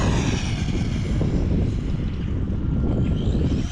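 An Arrma Typhon Grom RC boat runs at full throttle on the water, giving a steady, buzzing, wind-roughened motor whine that holds loud and continuous throughout, without speech.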